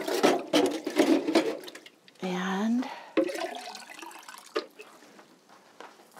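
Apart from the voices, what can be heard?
water poured from a container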